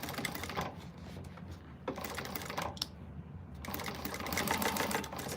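A sewing machine back stitching the gusset seam of a quilted cactus-print bag through thick layers with piping, a fast close mechanical whirring and rattle that pauses briefly and starts again, no voices.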